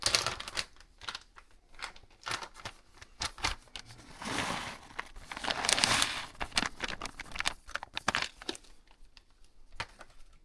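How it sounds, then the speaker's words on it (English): Thick-cut Mexican cheese sprinkled into a skillet makes soft, dry pattering and crinkling taps in irregular bursts, close by with no talking. "And then you want to sprinkle in some cheese. So I'm going to use a thick cut Mexican cheese."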